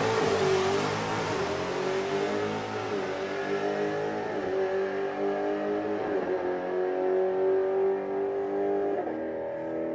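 A drag race car at a sportsman nationals and street weekend event drives away from the listener, its high engine note dropping and rising through several gear changes while growing steadily fainter into the distance.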